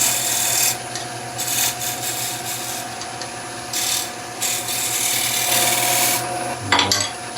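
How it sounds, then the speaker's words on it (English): A tool scrapes a bead into a wooden bowl spinning on a lathe, a steady rasping, rubbing hiss that swells and fades in repeated passes, ending with a short clattering rattle. "So I find it far easier, far more efficient to scrape a bead on a piece like this."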